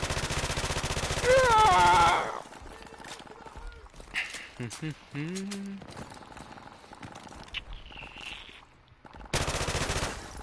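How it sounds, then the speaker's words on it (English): Gunfire in a Prop Hunt match aimed at watermelons, a burst of rapid shots and sharp cracks amid game noises and varied effects, with voices talking over parts of it. "I'm shooting watermelons"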